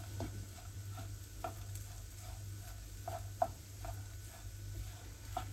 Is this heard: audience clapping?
no